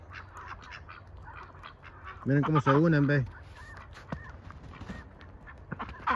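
A flock of Pekin ducks raised on a farm, scattered quacks giving way to a loud burst of honking calls for about a second, with someone speaking Spanish over the birds.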